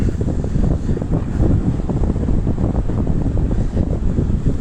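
Rough Sicilian sea whipped by strong wind, a continuous dense roar of surf and wind buffeting the microphone, steady and loud throughout with no voices.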